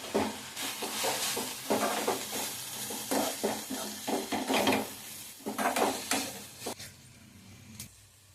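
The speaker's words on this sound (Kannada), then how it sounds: "ಫ್ರೈ ಮಾಡ್ಕೊತಾ ಇದ್ದೀನಿ" Food sizzles steadily in a hot pan as coriander powder is fried, while a utensil scrapes and stirs in repeated strokes; no voices, and the stirring stops near the end.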